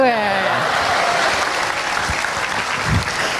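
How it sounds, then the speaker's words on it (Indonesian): Studio audience applause on an Indonesian comedy talk show, a loud, continuous burst of clapping that holds steady throughout, with a voice briefly heard at the start. "Tepuk tangan buat Diki Dipi dong."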